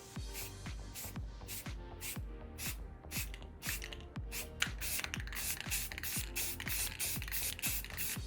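A spray paint can hisses onto a microphone windscreen in short repeated bursts, each sharp close spray cut off quickly, with a rattling, clicking nozzle between bursts and no talking.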